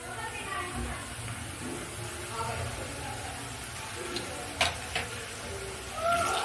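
Ginger garlic paste hitting hot oil with fried onions, giving a steady wash of sizzling with a few small sharp crackles and stirring sounds.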